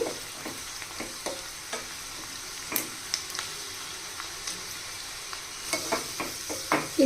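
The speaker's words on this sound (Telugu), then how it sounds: "ఫస్ట్ ఇదంతా బాగా దోరగా వేగించాలి" Ingredients such as cumin and mustard seeds stir-fried in a pan until golden, with scattered scraping stir strokes and light sizzling spread across the clip, near and moderately quiet, with no voices.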